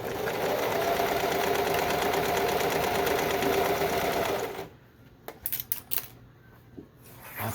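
A sewing machine stitching fabric, a rapid even mechanical chatter up close for about four and a half seconds, then stopping and leaving scattered clicks and small handling knocks.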